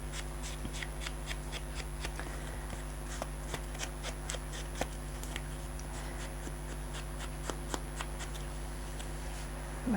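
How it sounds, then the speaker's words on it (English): A Stabilo pencil rubbed across a fabric-scrap junk journal card tag makes a steady dry scratching and scribbling, close and quiet, with irregular strokes and small taps from handling the paper. "Now I'll put some Stabilo on it."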